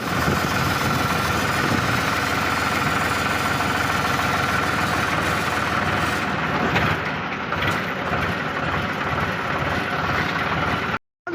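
A tractor engine idles steadily with a low, throbbing chug, running alone throughout before cutting off abruptly at the very end.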